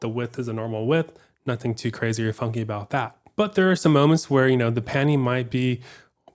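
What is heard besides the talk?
No distinct noise like a dog, phone or traffic.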